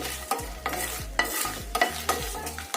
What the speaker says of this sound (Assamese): প্ৰথমে জলকীয়াখিনি আমি ভাজি কৰি লওঁ